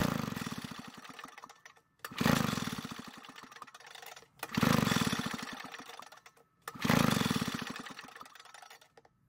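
A vintage Echo leaf blower with its spark plug removed, its starter rope pulled three times in a row, each pull a loud rising mechanical whir that fades before the next, close by and with no one talking.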